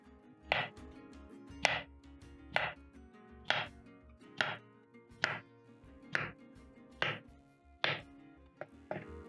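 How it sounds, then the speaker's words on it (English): Repeated knife chops through plantains on a cutting board, about one sharp thud per second in a steady rhythm, close and clear with no talking. "you're going to chop your plantains into medium sizes."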